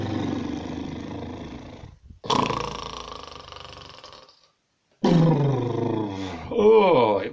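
A storyteller's voice imitates a giant snoring with its mouth open: three long, loud, rasping roar-like snores separated by short silences, the last rising into a wobbling growl.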